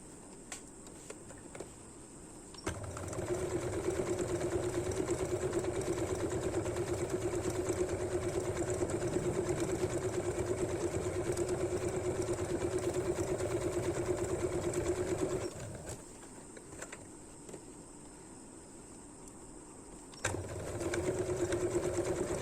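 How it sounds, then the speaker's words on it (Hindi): A sewing machine stitches fabric basket handles in two runs, a fast steady mechanical whirring lasting over ten seconds, then a pause, then stitching again, close and loud with no talk. "अब इसके ऊपर सिलाई करेंगे ऐसे।"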